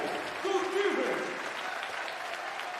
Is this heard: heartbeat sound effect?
no